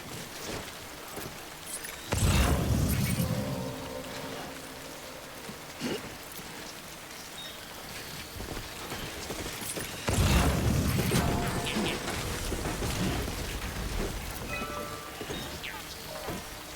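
Video game rainstorm with steady pattering rain throughout and two loud thunder crashes breaking in, rumbling through the downpour without any talking.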